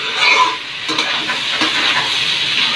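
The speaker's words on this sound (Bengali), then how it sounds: "চালটাকে হালকা হালকা ভেজে নিচ্ছি" Rice is lightly fried and stirred in oil for pulao, a close, steady hiss of sizzling with soft scraping from the stirring and no speech.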